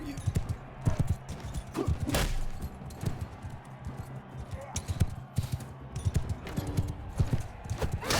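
Horse hooves clip-clop at a gallop in the medieval combat game Mount & Blade II: Bannerlord, a steady, fairly loud rhythmic beat running through the whole stretch with scattered thumps and faint game noise around it.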